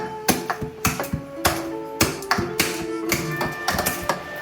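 Glutinous rice being pounded by hand into mochi, a series of sharp, close thuds in an irregular rhythm, roughly a dozen blows with brief ringing between them and no talking.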